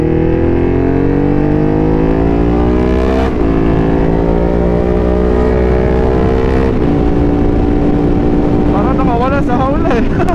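A Ducati Streetfighter motorcycle engine drones loud and steady on an expressway, its pitch climbing through gear changes, with heavy wind rush throughout.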